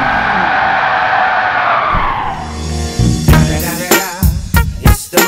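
A car drifting and skidding in Gran Turismo Sport: a sustained hissing tire squeal fades into a series of sharp, bursty screeches and engine blips, loud and close.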